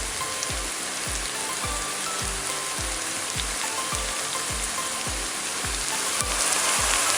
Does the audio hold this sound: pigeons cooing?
no